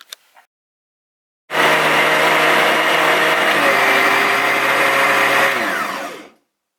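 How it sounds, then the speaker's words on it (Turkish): After a brief click and silence, a blender whirs loudly and steadily for about five seconds while blending fruit, then winds down and stops. "Ben şimdi bunu da geçireyim blenderdan."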